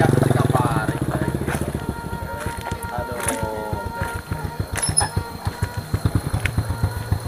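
A Honda Supra motorcycle rides past on a rural village road, its engine thumping in a quick, steady pulse that stays loud and close throughout.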